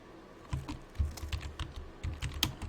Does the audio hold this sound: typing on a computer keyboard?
yes